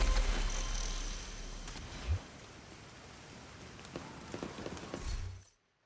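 Rain pours down in a video game, a dense continuous hiss with scattered heavier splashes and a low thump, fading out abruptly at the end.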